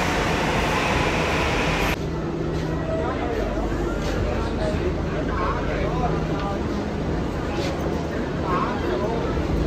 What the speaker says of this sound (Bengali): তো চলো মেট্রো এসে গেছে, মেট্রোতে চাপবো আর একদম বাড়ির সামনে নামবো